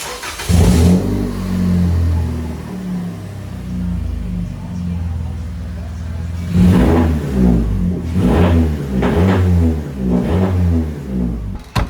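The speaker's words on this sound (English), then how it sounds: "we start the car and make sure everything's good" A 2022 Toyota Camry engine turns over and idles with a steady low rumble, then revs up several times in quick surges, loud and close, after an oil change.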